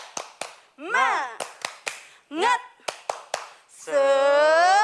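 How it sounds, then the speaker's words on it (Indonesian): Children and a leader clap out a rhythmic cheer at a Sunday school gathering, short crisp bursts of claps alternating with chanted voices, ending on a long sung syllable. "Yuk kita sama-sama tepuk semangat lagi yuk"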